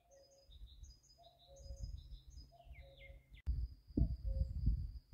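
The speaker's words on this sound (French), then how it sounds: "le coucou qui me fait coucou" A common cuckoo calls beside a hiking path on the GR65 pilgrimage route, its notes mixed with other birdsong over steady outdoor rumble, with a sharp knock midway and louder rustling near the end.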